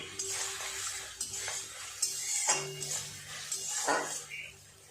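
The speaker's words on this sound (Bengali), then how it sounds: "সসটা দেওয়ার পরে আর একটু এইভাবে নেড়ে চেড়ে সমস্ত কিছু ভালো করে মিশিয়ে নেব।" Egg chilli and sauce are stirred in a pan, with repeated metallic scrapes and clinks of a spoon against the pan in an uneven rhythm, close and moderately loud.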